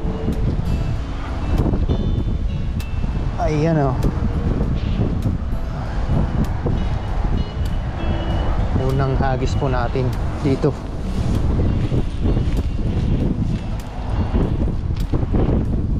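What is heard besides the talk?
strong wind at the shore while fishing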